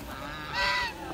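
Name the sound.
goose honking on a mixed farm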